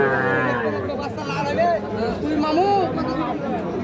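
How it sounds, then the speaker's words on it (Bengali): Young bull calves and other cattle lowing at Ambari livestock market, with several moos rising from nearby over a constant hubbub of crowd chatter and talking voices. "এগুলো সবগুলো হচ্ছে ষাঁড় বাচ্চা"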